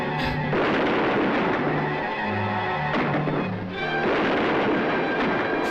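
Gunfire in a 1951 horror film, heavy booming shots and sharp blasts, loud and close, with a brief lull before the firing resumes.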